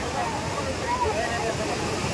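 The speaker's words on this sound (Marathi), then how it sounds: "हे धबधबा बघा" Kapildhar waterfall near Beed in Maharashtra sends up a steady, loud broadband rush of falling water that fills the whole stretch without pause.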